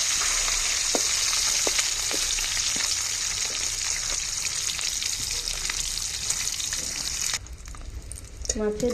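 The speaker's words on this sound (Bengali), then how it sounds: "মাছের দুই পাশ ভালোভাবে ভাজা হয়ে গেলে মাছগুলো নামিয়ে নিব।" Sarputi fish frying in hot oil, a loud continuous close sizzle with occasional pops and spatters, easing off near the end.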